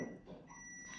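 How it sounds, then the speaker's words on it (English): A microwave oven beeps in a steady, high electronic tone that holds through the moment, fairly faint and set back behind the background room noise of a hobby unboxing. "Excuse the beeping, I think it's the microwave going off."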